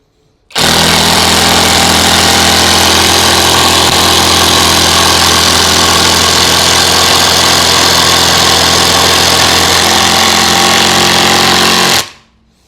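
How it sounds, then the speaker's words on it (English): A Hercules brushless cordless driver on an 8 amp hour battery drives a 5-inch lag bolt, giving a steady, loud, hammering mechanical drone with a rapid impact rhythm that runs unbroken for about eleven seconds, then cuts off. "Hercules test, 5-inch lag bolt with an 8 amp hour battery."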